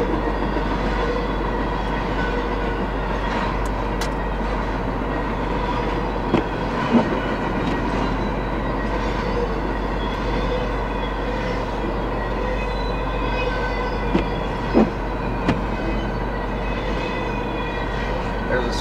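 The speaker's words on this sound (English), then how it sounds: "It's a big train" Long freight train, roughly 1.5 to 2.5 miles long, rolling past a railroad crossing in the snow, a continuous heavy rumble with rhythmic clicking of wheels over rail joints and occasional sharp clanks, sustained and loud for the whole stretch.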